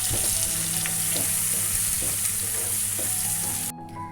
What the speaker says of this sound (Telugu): ఈ పేస్ట్ని మనం బాగా వేయించుకోవాలి